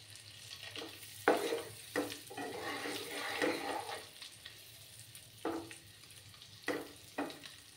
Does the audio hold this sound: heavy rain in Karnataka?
no